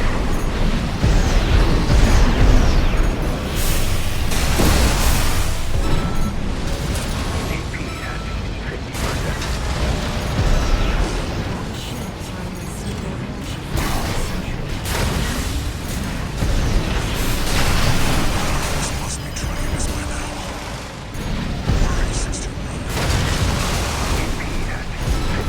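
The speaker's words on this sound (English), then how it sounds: "They've got missiles!" Missiles explode in the mech combat game Armored Core 6, with dense, loud booms and blasts layered over constant rumbling battle noise, a voice talking over parts of it.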